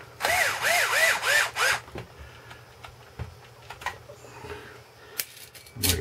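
A power drill drives a couple of screws back into an Axial Wraith RC truck chassis during a dual-motor rebuild, giving several quick rising whirs close up, followed by quieter handling clicks and a final short burst.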